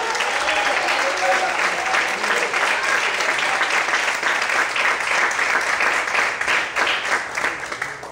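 Sustained, dense applause from a church congregation fills the space steadily, clapping continuously with cheering voices mixed in, loud and unbroken throughout.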